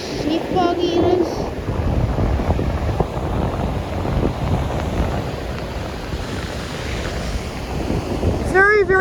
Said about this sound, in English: And the waves are pretty huge